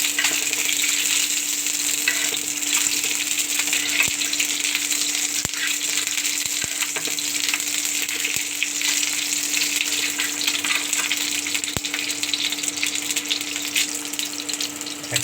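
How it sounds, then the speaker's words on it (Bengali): Eggs fry in oil with a strong, steady sizzle and hiss throughout, and a few faint clicks and taps from occasional stirring; no voices. "এখন তেলের ভিতরে ডিমগুলো ছেড়ে দিয়েছি"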